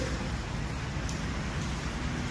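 Steady rain falls around an outdoor group at the Paardekraal Monument, a soft continuous hiss with no voices, fairly faint and even throughout.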